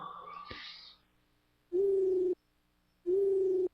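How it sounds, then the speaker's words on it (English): Owl hooting in the video game Shining Force 3, two sustained, even hoots with a pause between them, loud and clear after a brief burst of ambient game noise. "There's an owl."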